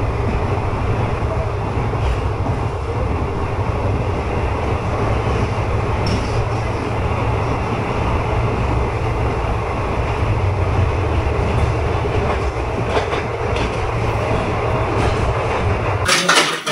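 A passenger train on the Dhaka to Agartala route rumbles steadily from inside the carriage for the whole stretch. It is a loud, continuous low roar with wheel and track clatter, and it cuts off abruptly at the end.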